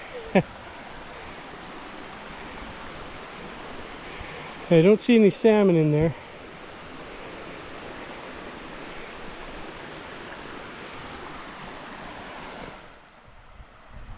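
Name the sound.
creek flowing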